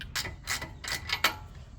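A ratchet works on an 18 mm upper control arm fastener at the steering knuckle of a 2023 Chevrolet Colorado Trail Boss during a lift kit install. It gives about five quick, faint clicking pawl bursts at an uneven rhythm, nearby and with no voice.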